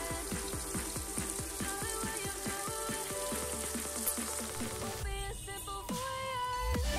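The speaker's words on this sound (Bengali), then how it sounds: "সুন্দর করে উল্টে পাল্টে ভেজে নেব।" Chicken pakoda slices fry in hot oil over a low to medium flame, a steady faint sizzle running continuously beneath other tonal sounds.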